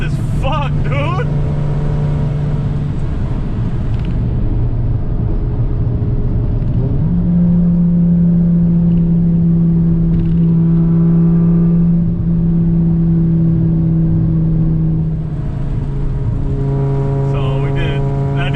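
Turbocharged car fitted with a BorgWarner S257SXE turbo accelerating hard on a back road, engine tone rising and holding steady with shifts, heard from inside the cabin with people talking over it.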